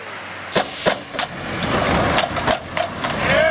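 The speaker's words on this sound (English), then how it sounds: "Brian got into the Bobcat" Bobcat skid steer loader at a fiberglass pool installation, its diesel engine running close by under a steady drone, punctuated by several sharp clanks and metallic knocks as it works.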